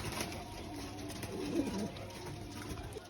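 A pigeon coos softly once or twice against a constant hiss of background noise, close by but faint.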